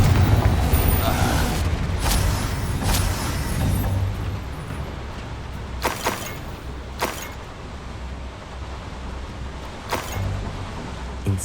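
Confringo spell explosions in Hogwarts Legacy: several deep, loud booms at intervals over a rumbling game soundscape, with character voices speaking.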